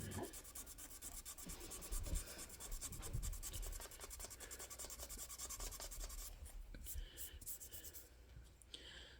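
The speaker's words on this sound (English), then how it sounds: "still sanding on this fucking thing" A surface is sanded by hand, a continuous close rasping rub with steady back-and-forth strokes that tapers off near the end.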